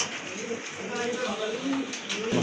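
Pigeons coo softly in a loft of fancy breeds for sale, including a black pair said to come from Andalusian stock, their low burbling calls repeating under steady background noise and people talking.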